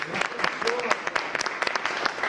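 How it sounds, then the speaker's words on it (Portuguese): Applause for a politician being celebrated at an event in the Palácio Barão de Nova Friburgo, with scattered sharp claps under talk and cheering voices throughout. "Vamos aplaudir a Deus por isso aqui."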